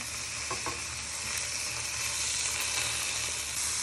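Pork sizzling steadily in a hot pan after being flipped to cook the other side, a continuous close, even hiss with faint crackles and no talking.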